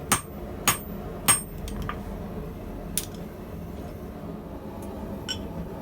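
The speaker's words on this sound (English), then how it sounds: "This stainless steel is really not easy to hand forge." A hammer strikes stainless steel being hand forged with fuller dies in a guillotine tool, several sharp, ringing blows at an irregular pace, then lighter taps over a low workshop hum, with no talking.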